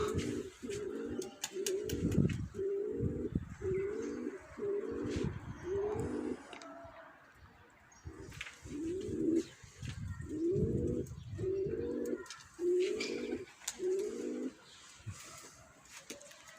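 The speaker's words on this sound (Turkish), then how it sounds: "Gördüğünüz gibi kıymetli kardeşlerim kuşlarımız geziyor" Pigeons cooing close by in a steady series of low, rolling coos, one after another, with faint rustling of birds moving about between calls.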